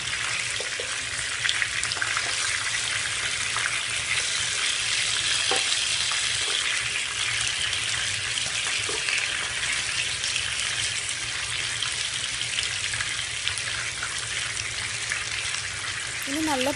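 Chicken legs frying in a pan over a low flame, a loud continuous sizzle and crackle with occasional stirring or turning sounds throughout.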